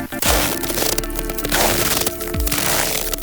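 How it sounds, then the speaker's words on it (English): Boots crunch through very cold, dry snow in a few crisp, crackling steps close by, during an unseasonably cold snap, with a low background rumble and no talk. "That is the sound of really cold snow underfoot."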